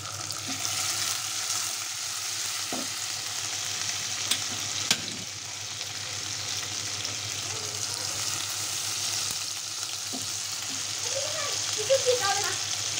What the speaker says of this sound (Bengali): আমরা আজকে একটু চিটাইঙ্গা শুটকি রান্না করতেছি।